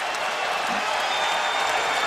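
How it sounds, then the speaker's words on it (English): A crowd at an NBA basketball arena cheers loudly, a dense continuous roar of many voices filling the space without pause. "listen to the crowd on Jimmy John night"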